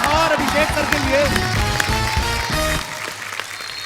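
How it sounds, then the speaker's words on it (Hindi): Studio audience on The Kapil Sharma Show applauding Ajay and Abhishek, a loud, dense wash of clapping mixed with band music and a voice for nearly three seconds before dropping away. "जोरदार तालियां एक बार अजय सर और अभिषेक सर के लिए।"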